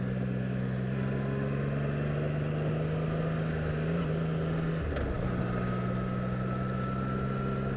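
A 2016 Triumph Rocket III Roadster motorcycle pulls hard under acceleration, its steady engine drone holding a strong low hum with a brief dip and shift midway, loud and close with wind rush over the microphone.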